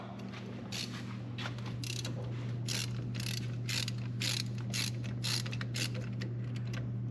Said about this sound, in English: we got to take this set screw out.